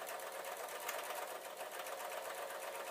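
A sewing machine runs steadily, stitching two fabric pieces of a small tote bag together, with a continuous close whirring hum and no pauses or voices.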